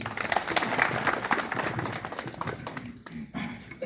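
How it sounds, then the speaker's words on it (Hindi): An audience claps in welcome at a Bank of India branch Republic Day celebration. Dense, fairly loud applause fills the whole stretch and thins slightly toward the end. "बाकी आप ताली के साथ स्वागत कीजिए"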